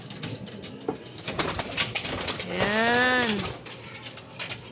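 Racing pigeons coo after returning home from a race, a clear rising and falling coo standing out amid fluttering and rustling in a loft, with someone speaking briefly nearby.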